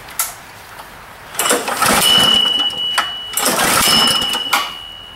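A small engine runs in bursts as its speed is raised by loosening the RPM adjustment screw, the revving rising into a steady high whine, dropping off and surging again; close and fairly loud.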